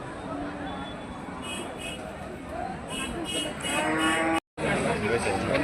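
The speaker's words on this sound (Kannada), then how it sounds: "ಜಾಲಿಯಾಳ ಜಾನುವಾರು ಮಾರುಕಟ್ಟೆ ಪ್ರತಿ ಬುಧವಾರಕ್ಕೊಮ್ಮಿರ್ತೈತಿ ಇದು" Cattle mooing repeatedly at a busy weekly livestock market in Jalihal, several calls near and far over a steady crowd babble.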